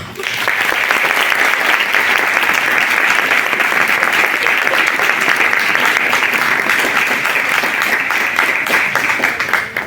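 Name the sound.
audience applause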